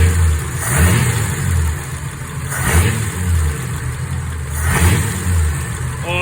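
A flathead-engined coupe on Holley 94 carburetors is revved in three sharp blips, each swelling to a throaty roar and falling back to a burbling idle. The engine is close and loud, with no talking.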